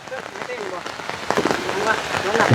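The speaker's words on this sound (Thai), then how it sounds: "ฝนตกพี่น้องเอ้ยเนาะ" Heavy rain pours down during work to raise house posts in a rural village, a dense steady hiss of drops on surfaces that swells louder toward the end.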